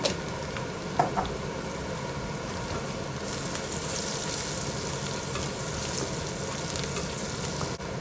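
Kashmiri chili powder fries in a hot pan, giving a steady, even sizzling hiss throughout, close and unbroken apart from a faint knock near the start, with no voices.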